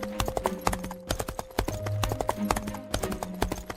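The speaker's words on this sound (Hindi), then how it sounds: "ऐसे वो घोड़े पर देश की सरहद के पास आता है।" Horse hooves clip-clop in a steady, busy rhythm as a rider approaches a border in a cartoon, close and continuous throughout with a faint tonal hum underneath.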